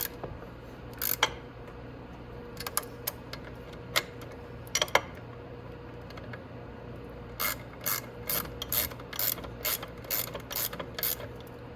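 A 10 mm ratchet wrench tightens the rear brake caliper bolts on a Venom 125cc Grizzly ATV, with quick clusters of close, crisp clicking pawl strokes separated by pauses.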